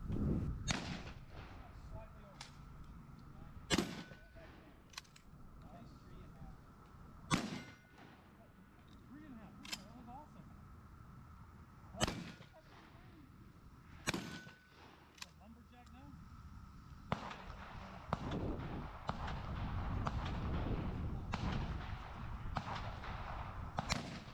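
Shotgun shots ring out on a shooting course, about eight sharp loud blasts spaced several seconds apart with a few fainter pops between, over an outdoor background that swells toward the end.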